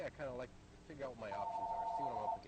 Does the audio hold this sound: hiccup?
no